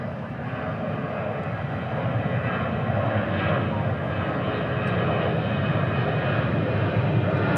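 Alaska Airlines airliner taking off at Dallas/Fort Worth airport, a broad, steady jet engine roar that holds loud and builds slightly over several seconds, heard from a moderate distance.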